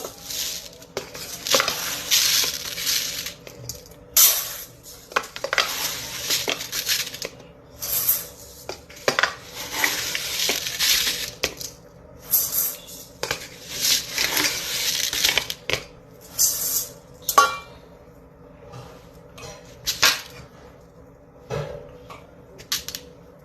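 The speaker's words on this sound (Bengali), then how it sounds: "এবার চালটাকে ভালো করে যতক্ষণ না সাদা জল বেরোবে ততক্ষণ ধুয়ে রাখবো" Rice being washed in water in a bowl makes repeated bursts of swishing, rattling grains and splashes, with irregular clinks against the bowl and short pauses between handfuls.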